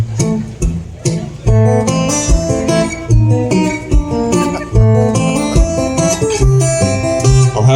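A solo acoustic guitar plays a classical piece fingerstyle at a slowed tempo, with clear plucked notes, ringing bass notes, and close, loud, steady phrasing and no talking.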